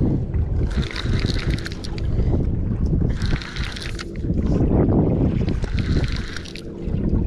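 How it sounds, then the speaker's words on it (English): Wind rushes and gusts steadily over a boat drift fishing for catfish in fall at Santee Cooper, with broad buffeting noise that swells and eases in waves throughout, and no talking. "This wind I thought was going to be died down by now, but it ain't."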